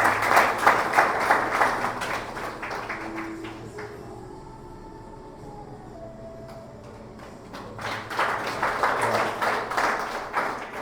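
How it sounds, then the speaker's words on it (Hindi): Loud applause fills a church Sunday evening prayer service, dies down while a voice briefly speaks, then rises again into strong, sustained clapping from a gathered crowd. "उसके बाद हम स्वागत करेंगे अमन यादव का जोरदार तालियों के साथ"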